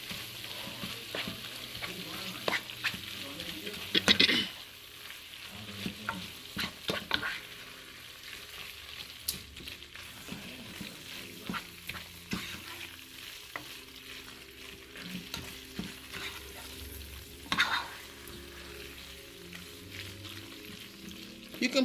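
Fajita pasta being stirred in a single pot, with soft scraping and a low sizzle running steadily throughout and a few louder clanks of the spoon against the pot.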